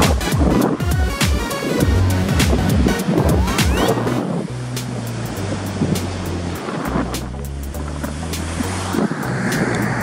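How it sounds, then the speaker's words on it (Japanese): Surf breaking at a Sea of Japan home point under strong onshore wind with a west swell, loud continuous wash of waves with wind buffeting the microphone, no voices. "乗れそうな波がブレイクしています。"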